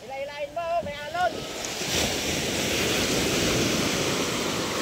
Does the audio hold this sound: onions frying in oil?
no